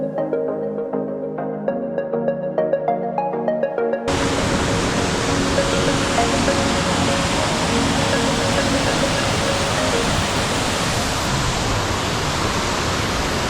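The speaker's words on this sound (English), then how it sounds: "I'm just trying to include as much of the waterfall scene as I can, getting all these rapids in the foreground here" Scaleber Force waterfall with rapids in the foreground roars as a steady, loud broadband rush of water, starting abruptly after a few seconds of quieter tonal sound and continuing unbroken to the end.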